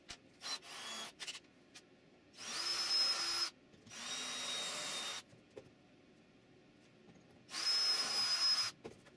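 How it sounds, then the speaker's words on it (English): Power drill boring holes into a knife handle, three sustained whirring bursts with short gaps, close and fairly loud, plus a few brief handling knocks between them. "So I have to drill my holes for it."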